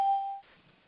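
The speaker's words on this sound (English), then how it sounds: "Somebody rang the doorbell." A doorbell sounds as one short, clear electronic tone, then quickly fades into faint room noise.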